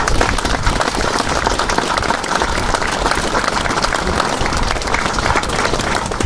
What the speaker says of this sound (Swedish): det här projektet är värd en stor applåd.